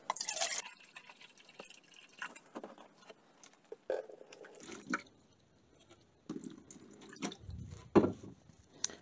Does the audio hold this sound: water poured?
yes